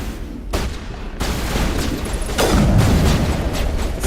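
Sniper gunfire in the video game Mass Effect arrives as loud, broad cracks and booms, several shots layered into a dense rumbling barrage, with no voices.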